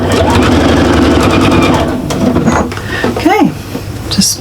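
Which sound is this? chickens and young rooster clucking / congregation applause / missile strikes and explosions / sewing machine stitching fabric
sewing machine stitching fabric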